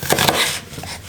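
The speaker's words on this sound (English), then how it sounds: "Shallots. I'm just gonna cut these in half or 4," Knife chopping shallots in half on a cutting board for an Italian rabbit stew, a few quick close thuds at the start, then quieter taps.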